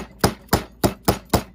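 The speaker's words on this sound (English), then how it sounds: "use my little rubber weighted hammer, and I'm going to curve those edges over." A small rubber weighted hammer curving the edges of a metal pea pod pendant over a rubber block, five evenly spaced, close, dull taps in quick succession with no talk.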